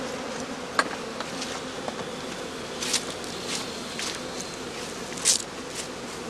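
Honey bees hum and buzz steadily around an open straw skep hive in a heather apiary, with a few louder buzzes as individual bees pass close.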